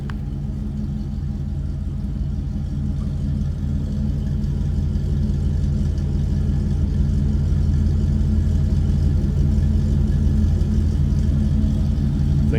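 A 1952 Chevrolet 3100 Stepside street rod pickup runs steadily close by, its mild exhaust giving a deep, even rumble that builds slightly without heavy cam lope or hard revving.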